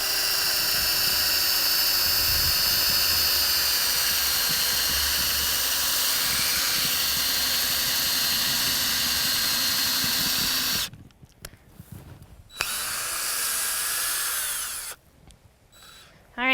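An electric drill spins a core sampler into a hay bale for a feed test, a loud steady whine that runs continuously for about ten seconds, then cuts out and restarts in short bursts.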